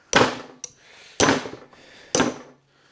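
Three sharp metallic hammer strikes, evenly spaced and close, land on the guide rod ball joint of a Mercedes W126, each ringing briefly before dying away, with a faint knock between the first two.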